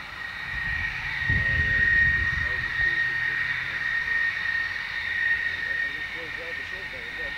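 English Electric Lightning jet fighter at RAF Binbrook heard at a distance, a steady whining engine roar that swells and fades gently, with people chatting nearby.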